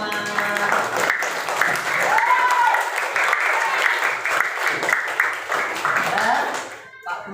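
A classroom of students breaks into sustained, dense clapping and applause, steady and fairly close for several seconds before tapering off near the end.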